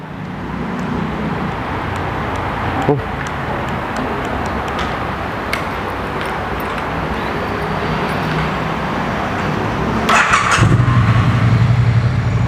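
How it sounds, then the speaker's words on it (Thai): A 2017 Triumph Street Twin motorcycle with stock exhaust turns over and starts, then settles into a steady idle rumble, with a sharper burst of revving near the end. "มาฟังเสียงท่อคันนี้กัน"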